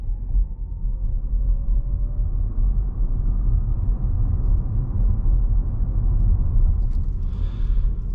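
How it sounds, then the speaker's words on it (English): Audi e-tron Sportback accelerating at half throttle: a steady, low road and motor rumble with tire noise that holds constant throughout, heard from inside the cabin without talk. "on this final stretch, we'll give it a good half throttle acceleration"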